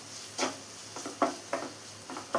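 Onions, okra and potato sautéing in a pan give a soft, steady sizzle, broken by a series of distinct scraping stirs spaced about half a second apart, heard up close and fairly quiet.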